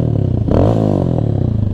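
A Venom Ghost Chopper 250 motorcycle with a wrapped exhaust runs close by with a throaty, pulsing idle, briefly revving up and settling back down.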